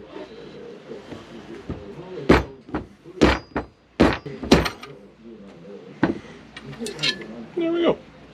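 A part is knocked off an M1A rifle with a hammer while a Sage stock is installed: a handful of irregular, sharp close knocks and clanks, with someone talking softly between them.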